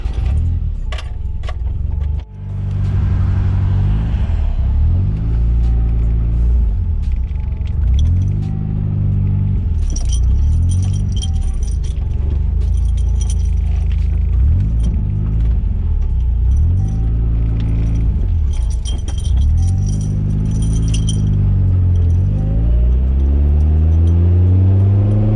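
A lowered car on new tyres driven along a road: a loud, close cabin rumble of engine and road noise that rises and falls through repeated gear changes, with light rattles and jingles over it.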